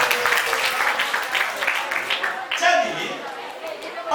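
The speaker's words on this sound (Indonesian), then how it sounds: "Tepuk tangan untuk dia." An audience at a talk on character building applauds for a few seconds, a dense wash of clapping with some chatter mixed in, fairly loud and close.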